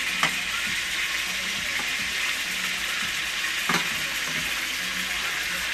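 Meatballs, steak strips, peppers and onions frying in a pan give a steady, close sizzle throughout, with a couple of brief louder crackles and pops.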